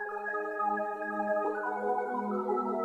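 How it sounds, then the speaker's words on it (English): A sustained synth chord pattern with layered harmonic tones over a steady low bass note, shifting slightly midway, playing continuously without voices. "I got this Habit arpeggio sound"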